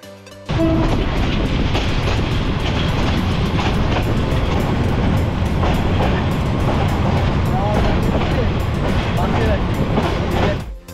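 A train rumbles loud and continuous at Sylhet railway station in Bangladesh, with a steady rolling roar and clattering starting abruptly and holding for about ten seconds before fading, people talking faintly underneath.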